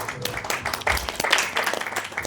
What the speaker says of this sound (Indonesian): Boleh kita aplaus untuk kawan-kawan WWF.